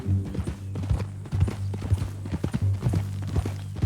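Hooves clip-clop steadily at a walking pace in the Red Dead Redemption 2 video game, close and clear over a low droning musical tone, with no talking.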